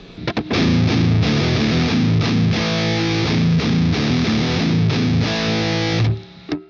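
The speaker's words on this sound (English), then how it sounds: "when you engage this, the saturation, it gets a little bit louder, but listen to the sound" Heavily saturated, low-tuned chords on an LTD James Hetfield Signature Grynch 27-inch baritone electric guitar, played in a steady chugging rhythm, thick and loud, ringing out at the end.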